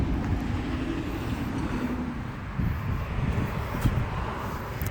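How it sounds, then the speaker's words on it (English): Steady car traffic rumbling past near a park in Sarasota, a continuous broadband roadway hum at moderate distance with no distinct individual vehicles and no talking. "I'm trying to find a quieter place to talk because of all this car traffic"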